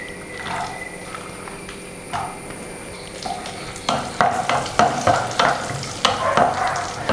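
Cashews and raisins frying in a pan for semiya payasam, a soft steady sizzle with scraping stirs that grow louder and busier in the second half, no voices.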